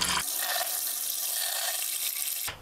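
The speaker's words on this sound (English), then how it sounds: "You can see all this black, dirty water coming out of there." Black, dirty water gushes steadily from a water softener line during a resin replacement, a continuous loud hissing rush of liquid that starts and stops abruptly.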